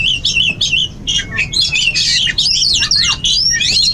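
Kacer wulung magpie-robins in breeding cages under a roof sing loudly and close, a rapid stream of bright whistled chirps and trills with short pauses between phrases.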